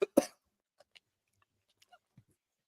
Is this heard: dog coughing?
yes